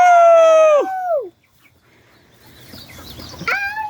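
A rooster near a DIY chicken coop gives a loud drawn-out call, falls silent, then lets out a shorter squawk and clucks close up.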